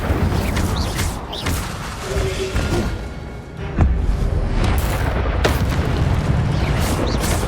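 Incendio fire spell cast in the Hogwarts Legacy video game, a dense fiery roar with a deep boom landing midway and sustained crackling burst texture throughout, loud and alone.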